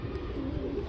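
Pigeons coo in a loft where birds are kept for sale, a low continuous murmur of cooing and soft bird calls filling the short stretch without any voices.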